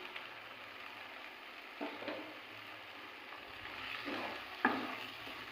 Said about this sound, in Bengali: 2 থেকে 3 মিনিটের মধ্যে মশলাটা খুব সুন্দর ভাজা হয়ে গেছে এবং এর থেকে তেল ছাড়তে আরম্ভ করে দিয়েছে।